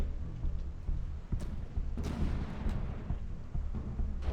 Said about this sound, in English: just now those two remaining guns have actually fired